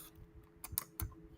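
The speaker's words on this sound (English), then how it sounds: "let's see if I could type it in here" A few quiet keystrokes on a computer keyboard, sparse clicks spread over a second or so in a hushed room.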